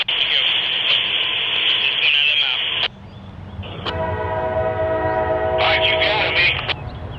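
A Kansas City Southern freight train pulls away. A loud, sustained horn blast sounds, then a radio-like tone cuts in, then another long horn, with rumbling rail noise underneath throughout.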